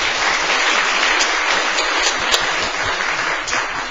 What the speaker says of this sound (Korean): 감사의 박수 한번 치겠습니다